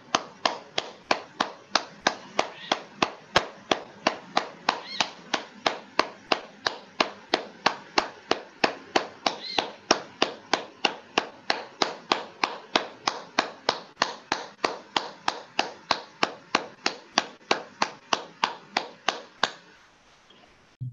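A group claps in steady unison at the close of a meditation session, each sharp clap landing at an even rhythm for a long run before stopping, with no talking over it.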